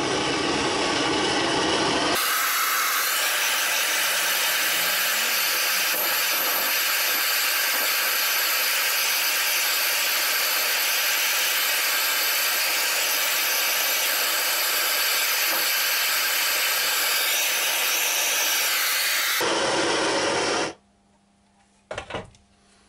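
A blowtorch scorches an ash wood bowl on a lathe, a steady loud roaring hiss that runs unbroken for about eighteen seconds, then cuts off, leaving a few faint knocks.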